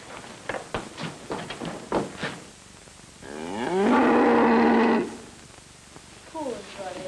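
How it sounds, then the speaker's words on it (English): A cow lets out one long, loud, drawn-out moo in the middle, preceded by scattered tapping sounds and followed by a fainter moan at the end. "She's lying in her stall moaning and mooing."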